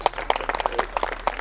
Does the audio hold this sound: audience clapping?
yes